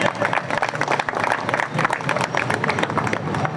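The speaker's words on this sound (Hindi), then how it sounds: "हम डुक्कलिया के मंच पर इन सबका स्वागत करते हैं तालियों से" Steady applause from a crowd welcoming guests at a protest stage on the Delhi University campus, dense continuous clapping throughout the short stretch, fairly loud and close.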